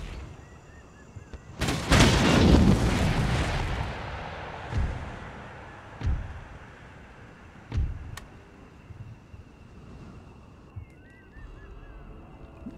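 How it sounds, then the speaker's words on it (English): Incoming carcass shot artillery fire in the Empire Total War video game during a city wall siege: a heavy booming blast rolls out and decays, followed by several fainter, spaced thuds of further impacts. "Carcass shot inbound."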